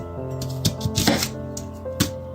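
A knife cuts a purple onion in half on a board, with a few sharp close chops over a steady background hum.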